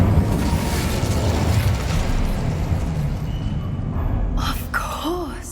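An Incendio fire spell cast in the game Hogwarts Legacy, a loud, dense roaring burst of fire that holds steady for several seconds, then fades into short bright magical shimmers and chimes.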